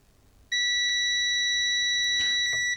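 A multimeter in continuity mode gives a loud, piercing beep while testing a faulty LED front bike light, sounding as one continuous tone held for over two seconds with a few faint clicks underneath.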